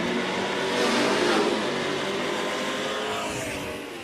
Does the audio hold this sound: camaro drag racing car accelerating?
yes